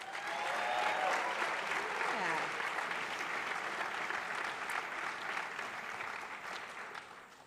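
A crowd applauds a competitive cheer team after a state meet win, with sustained broad clapping and faint cheering that slowly tapers off; one voice calls out briefly.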